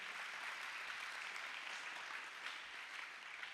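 An audience at a college athletics awards ceremony claps in a continuous, even burst of applause, faint and somewhat distant, with no clear voices.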